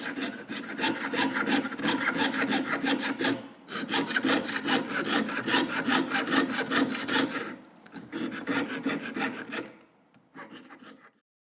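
A jeweler's saw rasps back and forth through metal in quick, steady strokes, pausing briefly between bursts of cutting; close and fairly loud with no talking.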